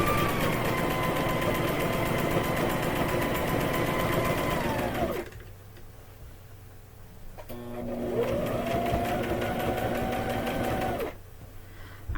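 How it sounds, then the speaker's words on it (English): A domestic sewing machine runs close and steady while sewing a quillow, its motor whirring in two long stretches, each winding down at the end, with a quiet pause between. "And I'm going to sew some."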